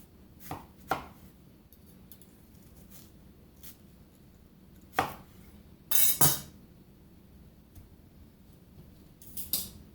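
A knife slices onions into rings on a cutting board, giving sparse crisp cuts and a couple of louder double chops, close and otherwise quiet.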